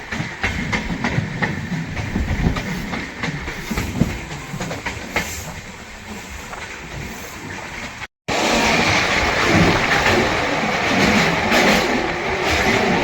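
A train rolls steadily near Beas junction, a loud continuous rumble with rail clatter that cuts out for a moment and then resumes at full strength.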